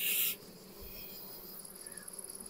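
Honeybees at a hive being split to form a new swarm give a faint, steady buzzing hum after a brief loud noise at the start, with no talking.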